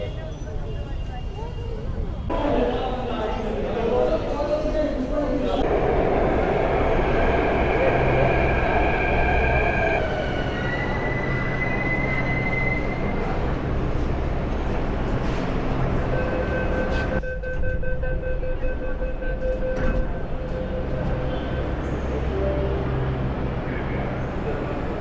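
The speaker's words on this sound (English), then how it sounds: "I'm going to head back on the metro station. It's 5 stops to my hotel." A Delhi metro train rides between stations, with a steady rumbling roll and the whine of the motors, plus brief tonal hums that rise and fall as it runs, and a voice talking over it.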